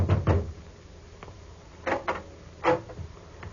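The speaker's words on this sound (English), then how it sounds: "I knocked at the door." Knocking on a house door in an old radio detective drama, with a pair of dull thuds at the start and two more spaced raps later over a hissy background.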